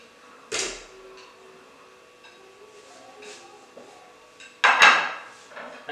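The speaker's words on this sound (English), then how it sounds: "So we are going to put bones here." Fish bones dropped into a pan for stock, two sharp clattering impacts a few seconds apart with quieter handling knocks in between and a close voice speaking faintly.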